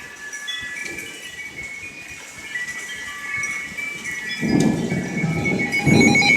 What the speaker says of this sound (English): this is the definition of a severe thunderstorm.